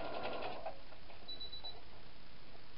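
A sewing machine stitches fabric for a Christmas stocking wall decoration, a short whirring run near the start that fades into quiet room noise, with a faint thin tone partway through.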